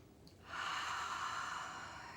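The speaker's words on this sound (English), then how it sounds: "One more deep breath." A single deep breath, a slow audible inhale then a long steady exhale, close and alone, guided as a calming self-care exercise.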